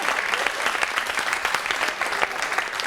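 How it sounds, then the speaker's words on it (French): A studio audience at a French televised singing-duo contest breaks into dense, steady applause that fills the whole stretch at moderate volume, with no voices over it. "Oh oui, on peut l'applaudir, bien sûr."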